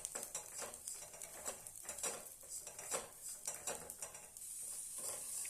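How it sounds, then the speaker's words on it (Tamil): Flattened rice (aval) is roasted over very low flame in a pan while a utensil stirs it, giving soft rhythmic scraping and clinking strokes with a faint sizzle, close and fairly quiet. "அவல் எடுத்திருக்கேன். இதையை வறுத்து எடுத்துடலாம். ரொம்ப ரொம்ப லோ ஃப்ளேம்லேயே வச்சு வருங்க."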